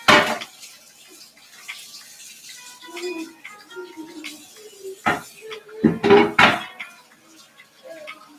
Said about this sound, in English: Wash everything, including my hands.